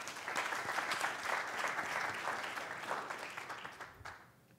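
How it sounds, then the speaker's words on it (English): Audience at a student oratorical contest gives a round of applause, a full, steady burst of many hands clapping that gradually fades to a few scattered claps. "One more round of applause, please."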